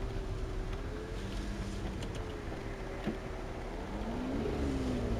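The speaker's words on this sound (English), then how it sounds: "Let's pop that into Corsa and let's do some downshifts." Lamborghini Gallardo LP560 Spyder, a 560 bhp car in Corsa mode, heard from inside as the engine drones steadily, with pitch rising and dipping through downshift blips and a sharper pop near the middle.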